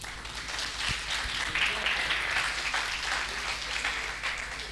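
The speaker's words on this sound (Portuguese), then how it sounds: "los recibimos con un fuerte aplauso" A conference audience gives a warm round of applause to welcome its speakers, steady moderate clapping that fills the room, with a few sharp individual claps standing out.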